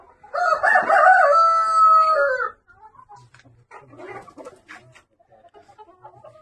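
A Nicobari rooster crows once, loud and close, in a long drawn-out cock-a-doodle-doo. Faint farmyard sounds and distant bird calls follow.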